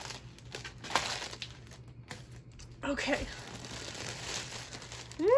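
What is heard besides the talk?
plastic shopping bag crinkling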